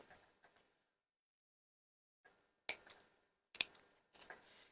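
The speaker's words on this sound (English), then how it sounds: "you need sharp scissors or snips to do this." Sharp scissors cut through waistcoat fabric while a welt pocket is being sewn, giving a few quiet, crisp snips close up, separated by short pauses of near silence.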